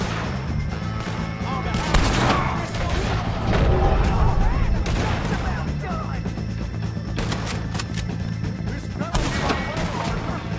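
Gunfire in Red Dead Redemption 2 rings out as a dense, loud exchange of repeated shots and cracks over several seconds, with shouting voices mixed in.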